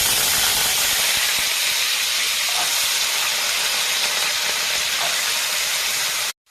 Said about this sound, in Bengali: গরম হয়েছে, আলুগুলো দেওয়া হচ্ছে এটা ভাজার জন্য।